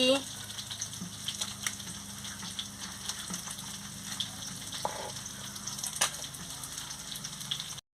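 Fish from the sea (a murla fish) frying in hot oil in a home kitchen, giving a steady close sizzle with light crackling pops that runs evenly throughout, with no talking.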